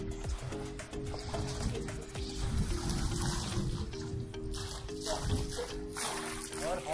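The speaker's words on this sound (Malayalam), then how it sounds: "ഇപ്പം നന്നായിട്ട് മഴ പെയ്യുന്നുണ്ടേ" Rain falls at a lakeside resort in Munnar, a dense, steady hiss of water that holds throughout, with a low hum and brief voices in the background.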